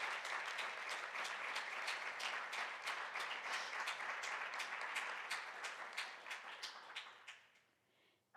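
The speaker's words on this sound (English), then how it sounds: "Please give Brother Rohel another huge round of applause." An audience at a Sunday devotional program gives a huge round of applause, dense crowd clapping that holds steady for several seconds, then thins and fades out near the end.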